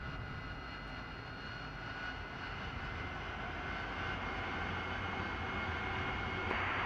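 AV-8B Harrier II jet engines running up in a flight simulator, a steady broad roar with a whining tone that builds slightly over several seconds, with no talk.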